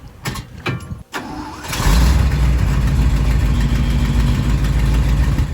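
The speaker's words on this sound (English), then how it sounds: "That was the dump truck. Backfired." A farm dump truck's engine sputters with a few uneven pops, then catches into a loud, steady low rumble close by that runs to the end.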